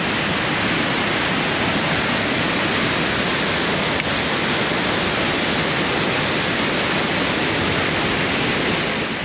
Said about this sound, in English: I think you can go to the top of this waterfall